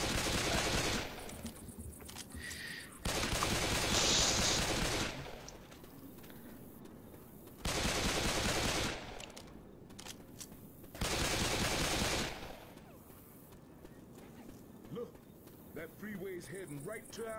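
Bursts of rapid gunfire from new guns in a video game come in several loud blocks of a few seconds each, with people talking between and over them.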